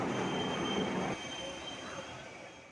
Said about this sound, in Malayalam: നമ്മുടെ വണ്ടി 3 മിനിറ്റിന് ശേഷം ആലുവ റെയിൽവേ സ്റ്റേഷനിൽ നിന്ന് പുറപ്പെട്ടു